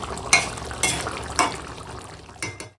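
Chicken pieces cooking in a pan while being stirred, a few distinct scrapes and clatters of the spoon over a low sizzle, close by with no voices.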